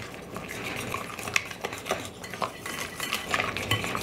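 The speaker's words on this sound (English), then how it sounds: "So just give this a really good mix." Gluten-free snickerdoodle dough with honey being mixed in a bowl, a utensil scraping and knocking against the sides in irregular clinks and thuds, close and moderately quiet, with no one talking.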